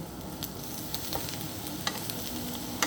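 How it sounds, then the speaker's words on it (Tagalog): Eggplant fries in olive oil with a steady, soft sizzle, broken by faint crackles and light pops of the oil; no voices. "So, ipapride lang natin yung talong with olive oil."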